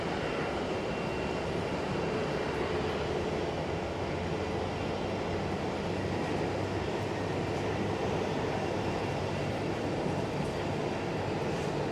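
A JetBlue airliner arrives at Sky Harbor airport during a storm, its steady broadband engine roar filling the whole stretch at an even, continuous level with no talk.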